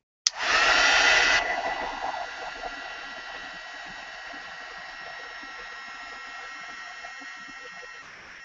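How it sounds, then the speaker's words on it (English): A heat embossing tool blows hot air over a textured art journal page, a steady whirring hum that starts abruptly, is loudest for the first second, then settles into a continuous drone. "Okay, heat emboss it again."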